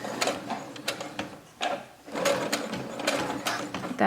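A sewing machine stitches a homemade fabric face mask in close, rattling bursts, stopping briefly between runs, with no voices.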